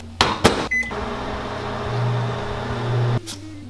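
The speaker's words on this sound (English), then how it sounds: "how to get hard brown sugar soft again as you microwave it." Microwave oven running while it softens hard, stale brown sugar, a steady low hum lasting a few seconds, with a couple of clicks and thumps at the start and a sharp stop near the end.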